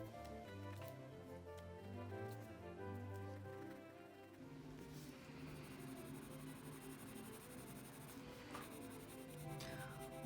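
Polychromos coloured pencil sketching on paper, soft scratchy strokes close up, continuous and quiet with rhythmic back-and-forth rubbing and a few sharper flicks.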